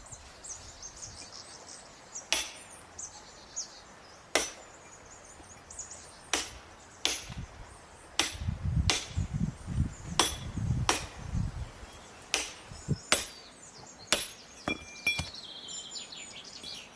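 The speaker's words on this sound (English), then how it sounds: "The hammer drives them in" Sharp hammer blows drive small stones into mortar in a stone wall, about a dozen spaced cracks at an uneven pace, with birds chirping faintly in the background.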